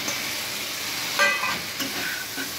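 Katla fish heads, soaked beforehand, hit a pan of fried spice paste with a steady close sizzle and a brief louder burst as they go in.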